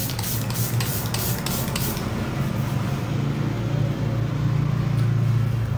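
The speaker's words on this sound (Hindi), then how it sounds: "सबसे पहले आप कोई भी स्प्रे कर लें" Several quick pumps of a facial mist or rose water spray bottle aimed at a freshly washed face, short hissing bursts in rapid succession, then a steady low background hum.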